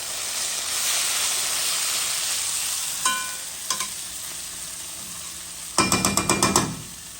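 Rougail simmering in a marmite pot, a steady sizzle and hiss throughout, broken by a few sharp spoon knocks and then a quick run of metallic clinks from stirring near the end.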